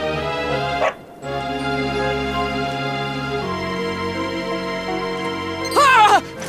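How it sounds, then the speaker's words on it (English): Dog barking in the Dragon Quest XI S video game, set in Downtown Heliodor: a sharp yelp near the start and a louder burst of barks near the end over steady background game music. "Not a dog! Anything but that!"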